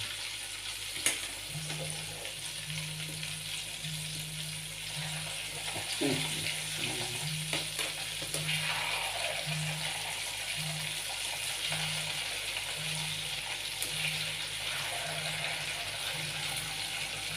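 Purnam boorelu, sweet dumplings coated in rice and urad batter, frying in hot oil with a steady, soft sizzle and faint bubbling throughout, plus an intermittent low rhythmic hum and occasional clinks nearby.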